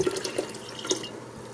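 Room-temperature tea poured for making kombucha, a light splashing trickle with a few brief drip-like splashes, close and fairly quiet with no talking.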